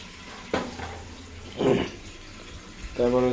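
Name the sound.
washing eggs under running tap water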